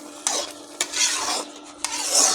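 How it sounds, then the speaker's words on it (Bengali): Yogurt being stirred in a pan over heat, three distinct scraping strokes of a spoon against the pan in slow rhythm over a soft continuous sizzle, close and fairly loud, no talking. "ভালো করে নেড়ে নেড়ে দইটাকে শক্ত করে নিতে হবে"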